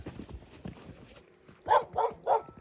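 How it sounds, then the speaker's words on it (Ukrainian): Three quick, fairly close barks in a row from a Laika dog, following a stretch of low rustling and soft clopping sounds, in a deserted mountain hamlet near Yaremche, Ukraine. "Ще один собака, гарний."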